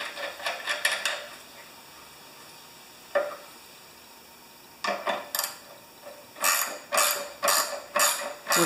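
A ratchet tightens a part on a pressure washer in repeated short clicking bursts, close and crisp, with a quiet pause in the middle before several more strokes.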